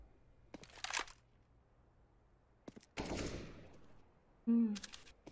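Counter-Strike: Global Offensive gunfire during a professional ESL Pro League esports match: a few separate sharp bursts of shots and rapid fire, fairly faint and spread out over quiet game ambience.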